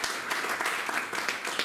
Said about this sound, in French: je pense qu'on peut vraiment l'applaudir.